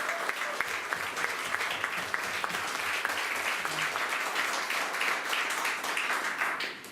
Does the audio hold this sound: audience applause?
yes